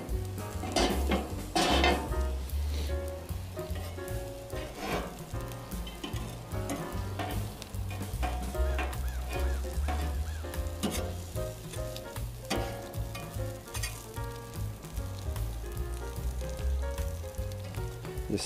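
Croissants and grilled vegetables, including asparagus, sizzle loudly and steadily on a Camp Chef griddle, with occasional clinks of a spatula against the metal and no talking.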